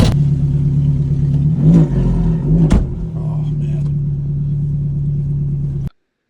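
Ferrari F430 with a valve delete exhaust, a loud close engine rumble that rises in two quick revs before settling to a steady idle and cutting off abruptly, with a voice briefly heard.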